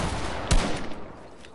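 A single sharp sniper rifle shot in a shooting video game, one loud crack with a short tail, set against steady game background noise.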